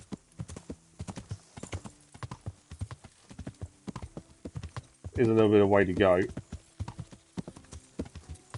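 Horse hooves clip-clop at a steady riding pace in the Kingdom Come: Deliverance video game, continuous and close, with someone talking over them throughout.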